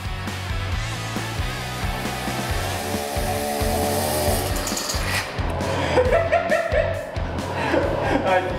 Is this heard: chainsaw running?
yes